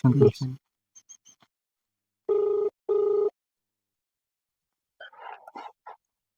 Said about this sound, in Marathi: बेल वाजली बरं बेल वाजली